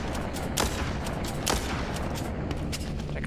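Shotgun blasts in the zombie shooter game Walking Zombie 2, with several sharp, loud shots spaced about a second apart over a steady game background and no talking.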